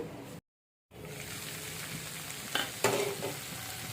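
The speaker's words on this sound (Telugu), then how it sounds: "మూత పెట్టి ఆయిల్లో మగ్గించుకుందాం" Cucumber and tomato softening in oil in a covered pan, a steady low sizzle and crackle after a brief silent gap, with a few sharper spits and a lid or utensil clink near the end.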